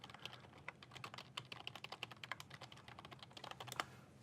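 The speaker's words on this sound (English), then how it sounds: "if I can learn to type, and type the right password" Someone types a password on a computer keyboard running Windows 8, with a quick run of close, crisp key clicks in an irregular rhythm and no talking.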